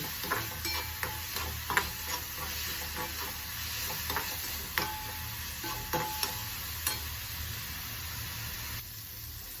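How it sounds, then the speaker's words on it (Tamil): Food sautéing with salt and turmeric in a pan for pea curry, a low continuous sizzle with light, regular scrapes and taps of stirring. "நல்லா வதங்கட்டும்."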